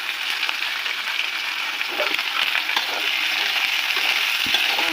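Cluster beans fry in hot oil in a pan, giving a continuous close sizzle with scattered light crackles and a few utensil scrapes, without any voices.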